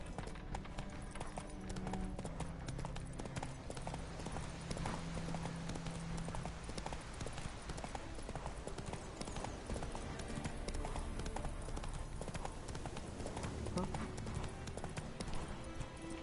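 Rhythmic clip-clop of a galloping horse named Roach in a video game, steady and close throughout, with a person talking over the hoofbeats.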